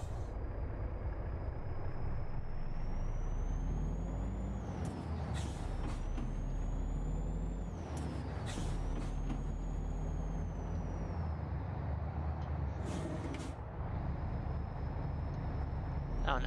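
In American Truck Simulator, a truck's air brakes let out several sharp hisses over a continuous low engine drone. A high whining tone rises and falls between the bursts.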